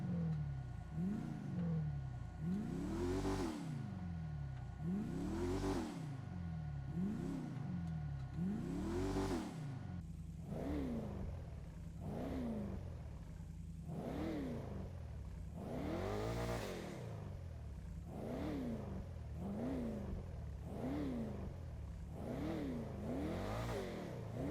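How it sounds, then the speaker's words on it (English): The Baller ST SUV in GTA Online revs its engine over and over, each rise and fall of the revs sweeping up and down in a regular rhythm, loud and continuous with no speech. "Now let's hear if there's any difference between the cars."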